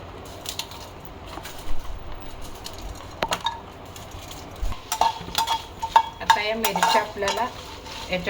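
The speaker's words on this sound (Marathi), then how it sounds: "या लाल मिरच्या आहेत त्या आपल्याला तेलामध्ये परतून घ्यायच्या" Red chillies and bay leaf being sautéed in oil, with scattered spoon scrapes and light clinks over a soft sizzle, close and fairly quiet.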